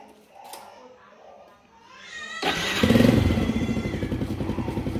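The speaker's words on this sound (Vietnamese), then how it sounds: "Nó tiến hành nổ máy." A manual-transmission motorbike with a high-voltage ignition coil lead being checked starts up about midway and settles into a steady, close, loud idle after a quiet lead-in.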